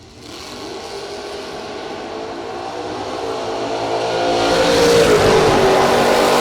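Race cars, a Monza and a Nova, roar down a racetrack at a drag racing event, engines rising in a loud sustained drone that swells and brightens as they pass close by.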